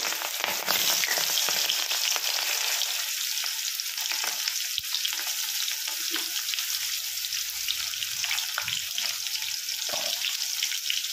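Onions fry in hot oil in a kadai, a steady bright sizzle close up with faint scraping and bubbling bits scattered through, no talk over it.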